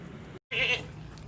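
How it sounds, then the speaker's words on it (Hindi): A Kamori Pateri goat at a livestock market gives one short, nasal bleat after a brief pause, close and clear over a low background murmur. "ये कामोरी पटेरी बकरी है, एक बच्चे के साथ"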